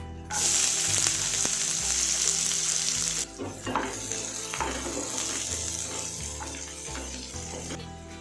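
Sliced onion, cinnamon and cloves sizzle in hot oil for a mutton liver fry, a loud steady hiss that drops a little partway through as a spoon stirs and scrapes the pan.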